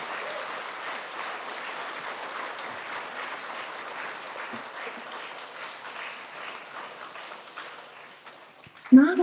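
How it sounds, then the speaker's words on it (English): Audience applause at an elementary school student recognition ceremony, honoring a second grader: steady, moderately loud clapping from a crowd fills the room for about nine seconds, then fades, with a few faint voices underneath and a brief louder bump at the end. "Have a big round of applause for our second grader."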